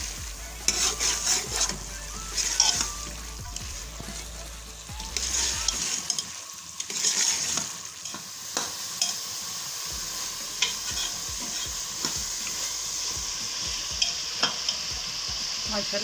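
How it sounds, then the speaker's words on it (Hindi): Chickpeas sizzle and crackle in hot oil while a utensil stirs and scrapes the pan in irregular bursts, close up. "पाँच मिनट भूनें इसको।"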